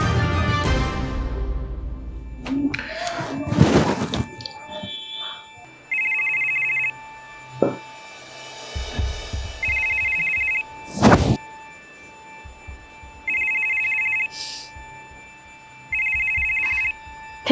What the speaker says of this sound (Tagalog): Kailangan kong sagutin yung tawag na asawa ko.